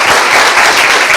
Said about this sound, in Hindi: यीशु मसीह के लिए ताली बजाएंगे जोर से